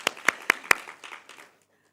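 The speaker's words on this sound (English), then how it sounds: "Can you give her a round of applause?" A few sharp, separate hand claps ring out in a regular rhythm at a university research event, then a scatter of softer claps fades quickly into silence, like a small audience's brief, thin applause for a speaker.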